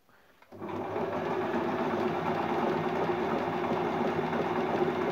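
A Singer Tradition sewing machine starts up after a brief quiet moment and runs steadily, its rapid mechanical whirr and needle chatter sewing an imitation overlock stitch at close range.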